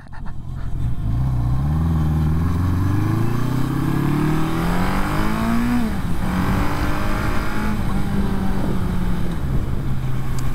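An old, somewhat neglected cruiser car's engine revs up hard and climbs through a long acceleration, loud and close, then settles into a steady drone.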